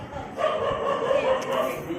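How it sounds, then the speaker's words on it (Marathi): A dog in a Konkan village during the Ganesh Chaturthi festival gives a few short yips and barks mixed with people talking and laughing nearby. "चला कुत्र्याला हाकलायला"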